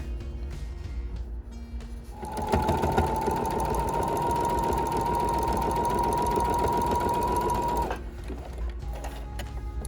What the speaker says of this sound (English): we're just gonna sew right down the line here